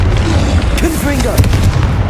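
A Confringo fire spell bursting in the Hogwarts Legacy game, a loud booming blast with rumbling low end, cast amid a rapid chain of other spells in combat.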